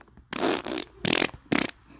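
Three loud, close fart sound effects in the Roblox game Brookhaven, a long one followed by two shorter bursts with brief gaps between them.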